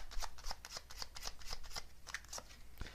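Tarot cards riffle and slide against one another as they are shuffled up close, a quick continuous run of papery flicks and snaps with a sharper tap near the end.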